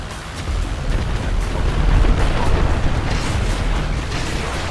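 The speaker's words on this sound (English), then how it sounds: "He's just carpet bombing everything." Bombs exploding one after another from carpet bombing in GTA Online, a dense rumbling roar of blasts that swells and holds, loud and close, with no talk over it.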